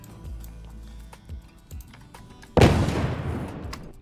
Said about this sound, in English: Yes, that is an explosion.